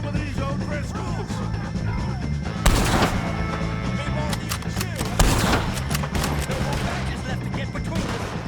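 Repeated gunfire from a Red Dead Redemption 2 shootout against O'Driscoll gang members at Beaver Hollow, sharp loud shots cracking over continuous game music and battle noise, with voices shouting in the mix.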